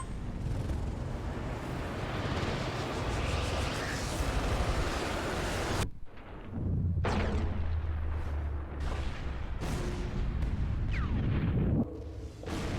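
A missile roars steadily in Sniper Elite V2 Remastered, then cuts to a booming explosion with rumbling debris and scattered blasts afterward, loud and dense throughout.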